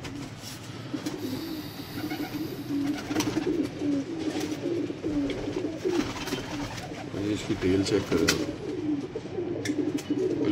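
Sialkoti pigeons coo steadily in a low, continuous murmur close by, with someone talking over them for much of the stretch.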